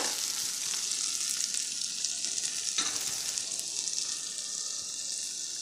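Bitter gourd, onion and ripe red tomato frying in a pan while a spoon stirs them, a steady close hiss of sizzling oil throughout with faint scrapes of the spoon.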